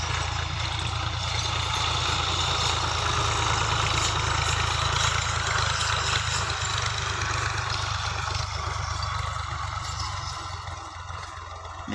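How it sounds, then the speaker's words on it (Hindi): A tractor engine chugs steadily as it levels farmland for an onion crop in a Sindhi village, the close, continuous low rumble holding throughout before easing slightly at the end. "इसको ट्रैक्टर की मदद से सेटिंग कर रहे हैं इस ज़मीन की"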